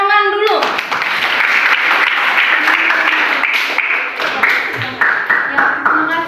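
An audience in a hall claps in a dense burst that continues under the host's talk and some cheering voices, loud and close throughout.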